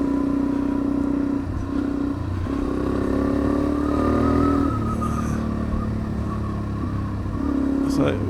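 Motorcycle ridden along Blue Gum track, its engine droning steadily with shifting pitch as it rises and falls through revs, close and continuous over the whole stretch.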